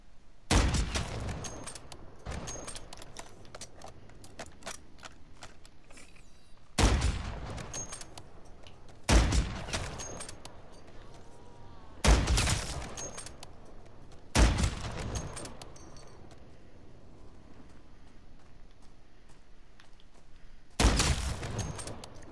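Shotgun blasts in Call of Duty Modern Warfare 3 Zombies, six loud, sharp booms spaced a few seconds apart, each with a short ringing tail, over a low bed of game noise.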